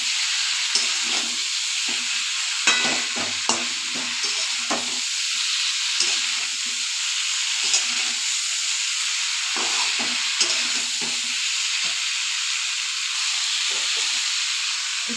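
Rohu fish curry with potato and cauliflower sizzles and hisses steadily in a pan, close up. Repeated scraping strokes of a spatula stir the mixture over a constant bright frying hiss.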